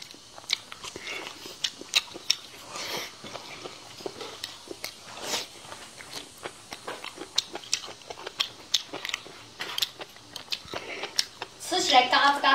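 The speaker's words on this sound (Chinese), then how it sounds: "吃起来嘎吱嘎吱脆啊！" Crisp, crunchy chewing of glutinous rice shoots stir-fried with bacon or pork belly, with close, repeated bites and crunches in an uneven rhythm.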